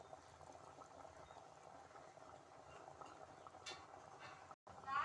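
Chicken curry with coarsely pounded coriander seed, cinnamon and clove simmers in a pot, giving a steady, faint bubbling hiss throughout, with a brief clatter near the end.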